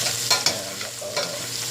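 Eggs and rice fry in a pan with a steady crackling sizzle, broken by a few sharp stirring scrapes, close and continuous without talk.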